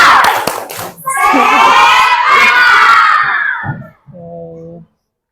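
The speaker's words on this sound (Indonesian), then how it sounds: "kita tepuk semangat dulu sekali ya. Ya, tepuk semangat." A classroom of children performs the tepuk semangat clapping chant, with rhythmic claps and loud shouted voices in unison for several seconds, after a teacher's prompt, ending in a short sung tone.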